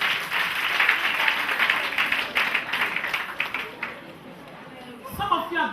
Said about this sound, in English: Clap for these ones.